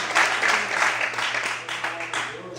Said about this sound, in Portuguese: Podemos aplaudir o Senhor, aleluia.